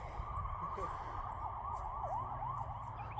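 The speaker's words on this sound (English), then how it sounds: "I hear sirens." A siren wails steadily in the distance over the constant engine drone of a lawn tractor, its pitch sweeping up and down repeatedly.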